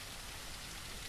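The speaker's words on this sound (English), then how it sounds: "Oh, rain, too." Steady rainfall in the zombie survival game SurrounDead, a soft constant hiss of falling rain with no voices over it.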